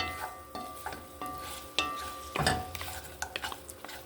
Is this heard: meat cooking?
yes